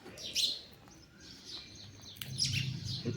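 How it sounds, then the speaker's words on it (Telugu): Several small birds chirp and tweet outdoors, with short high calls scattered through the clip over soft background noise, moderately close and not very loud. "మీకు వెనక పిట్టల సౌండ్ వస్తుందా"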